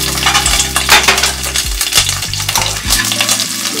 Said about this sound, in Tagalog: Okay, so i-fry na po natin yung ating garlic.